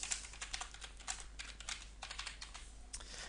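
Rapid keystrokes on a computer keyboard enter a new security question, a steady run of crisp, close clicks with brief pauses, alone with no voices.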